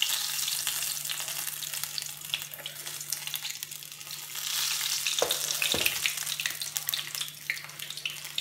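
Cauliflower pakoras fry in hot oil with a steady, continuous sizzle and crackle throughout, with a couple of brief louder clatters near the end from stirring or utensil contact; no talking.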